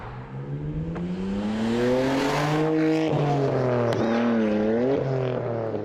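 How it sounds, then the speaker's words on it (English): A car engine, apparently a Nissan Skyline, revs loudly and close by, its steady droning pitch climbing and falling across several seconds with a few sharp shifts, without talk over it. "That's a poorly sounded car."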